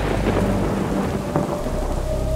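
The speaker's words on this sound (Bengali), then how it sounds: "বলতে বলতে আবার বৃষ্টি শুরু হলো" Steady heavy rain pours down, with a low rumble of thunder rolling underneath, continuous and loud throughout.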